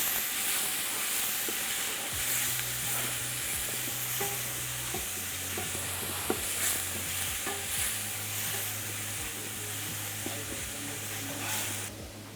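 A spicy Greek dish sizzles and hisses in a frying pan while it is stirred, with a steady close crackle and scraping stir sounds running throughout, no talk.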